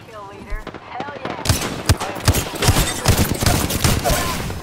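Automatic gunfire in Apex Legends breaks out in rapid, loud bursts of overlapping shots, close and sustained, with other game sounds around it.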